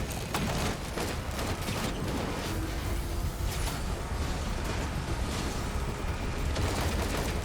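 Automated turrets in Risk of Rain 2 fire a dense, continuous stream of rapid shots, steady and fairly loud, inside a busy game mix.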